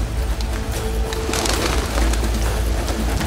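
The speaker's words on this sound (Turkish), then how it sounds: "Güvercin, güvercin efendim." Pigeons coo softly amid a dense, noisy background rumble in a historical drama setting, the low cooing partly buried beneath the constant ambient sound.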